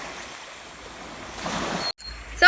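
Sea waves at the shore make a steady, broad rushing wash that swells slightly toward the end, broken by a brief dropout near the close.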